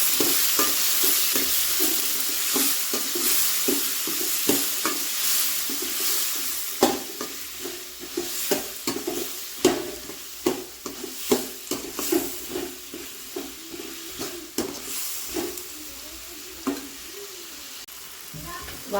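Tomatoes frying for idli kurma while being stirred, a continuous sizzle broken by repeated spoon-against-pan scrapes and knocks in an uneven rhythm, close by and with no voices.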